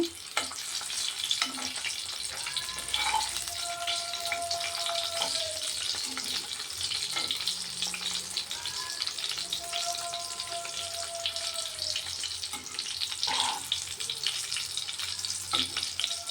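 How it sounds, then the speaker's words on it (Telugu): Boiled eggs fry in oil with turmeric for an egg curry, crackling in a continuous close sizzle broken by a few light clinks and bubbling pops. "ఇవన్నీ గుడ్లు అయితే నూనెలో పసుపు వేసి ఫ్రై చేస్తున్నానండి గుడ్లని"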